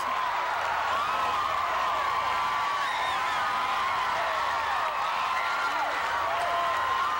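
College gymnastics arena crowd at the 2005 NCAA Championships cheering a perfect 10 floor routine, a sustained loud roar of applause and shouting with whistles cutting through, steady throughout.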